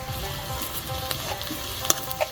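Panch phoron spice mix sizzles and crackles as it hits hot oil in a pan, a steady close frying hiss with a few sharp pops, no voices.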